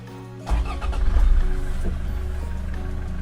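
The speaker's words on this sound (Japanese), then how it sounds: "実際エンジンかけたら音どうなのかっていうと" A sixth-generation Toyota HiAce van engine cranks and catches at about half a second, then settles into a steady, low idle rumble, close by with no talking, window open.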